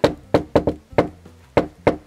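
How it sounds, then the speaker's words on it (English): Sharp knocks on a door come in an uneven rhythmic pattern, about seven close, loud raps with a short pause in the middle, each one ringing briefly before the next. "I like knocking like that."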